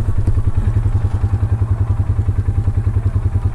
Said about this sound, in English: I can hear the muffler coming from